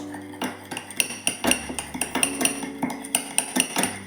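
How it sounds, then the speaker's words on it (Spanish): A utensil clinks and scrapes against a dish while a seasoning of mustard, salt and black pepper is mixed, giving a quick, irregular series of close metallic taps and scrapes. "sal al gusto y pimienta negra, también al gusto. Y mezclamos."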